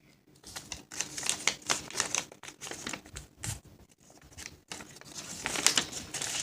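Paper being folded and creased for an origami parrot, heard as close, crisp rustles and crinkles in irregular bursts with short pauses between them.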